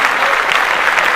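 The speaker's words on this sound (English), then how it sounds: "She gets a clap." Podcast hosts and their audience clap together, a brief burst of loud, close, dense applause with no talk over it.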